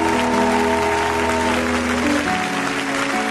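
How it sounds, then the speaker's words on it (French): A church congregation applauding during a worship service, a dense, even wash of clapping that carries on steadily, with a sustained musical tone ringing beneath it. "acclame encore, acclame encore, acclame encore"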